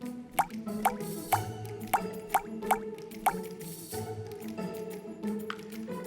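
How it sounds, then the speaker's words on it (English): Green Mandarin essential oil dripping into a glass spray bottle, with about eight distinct plops landing in quick, uneven succession over a soft liquid background. "Then add 8 to 12 drops of Green Mandarin essential oil."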